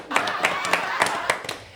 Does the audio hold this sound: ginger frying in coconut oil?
no